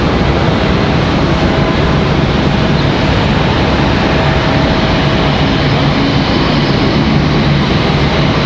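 A JetBlue airliner arriving from San Juan at Raleigh Durham International Airport gives off a continuous, loud, broad jet roar that stays level throughout.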